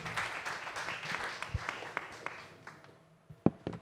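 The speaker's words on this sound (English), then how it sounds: "Please give Diraj a round of applause." Audience applause at a startup pitching forum after a founder's pitch, moderate scattered clapping that thins out and fades toward the end, with a few louder isolated claps near the close.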